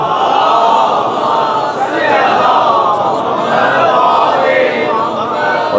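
A crowd at a Jashan-e-Wiladat religious gathering reciting salawat together, a loud, sustained unison chant of many voices swelling and falling in waves.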